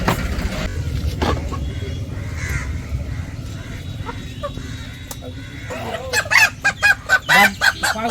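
Village country chickens and a rooster cluck and call around a farmyard, with a voice talking early on and a run of loud, close squawks and crows toward the end.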